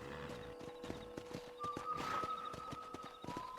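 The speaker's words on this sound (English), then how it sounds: "let's see if you can still ride a horse" Rhythmic clip-clop of horse hooves at a steady trot in the video game Red Dead Redemption, with a horse neighing partway through; fairly quiet, no talking.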